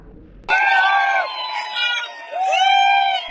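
On stage at a Paytm success celebration, a crowd shouts and cheers in loud sustained bursts, with voices whooping together, a brief dip in the middle, then another strong rise.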